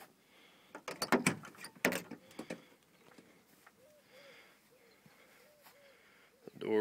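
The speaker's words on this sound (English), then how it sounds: "The doors on it shut like they're brand new." The door of a 1987 C20 pickup truck shutting, a few loud close thumps and clunks early on, followed by quieter handling sounds and background ambience, with a person speaking nearby.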